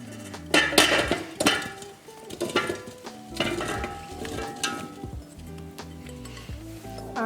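Organic pumpkin and broccoli with salt, pepper and cinnamon tipped into an Instant Pot Duo Crisp, close clattering scrapes and clinks against the metal pot with some sizzling.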